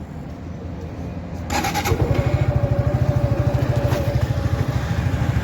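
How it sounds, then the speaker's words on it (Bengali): A motorcycle engine, started up on a bike that has run about a hundred kilometres on fresh engine oil, settles into a close, steady idle, its rapid even thumping strengthening after the first second and a half and continuing alone. "আমি বাইকটাকে স্টার্ট করেছি"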